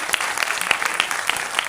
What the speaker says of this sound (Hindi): आप सबसे आग्रह करूंगा एक बार जोरदार तालियों से